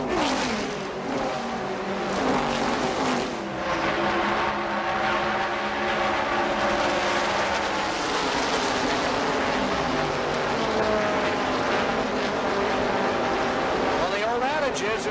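Race cars roar around the track at the 1981 Daytona 500, a dense continuous engine drone with rising and falling pitch sweeps as cars pass, loud and sustained throughout.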